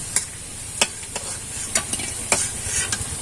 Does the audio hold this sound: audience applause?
no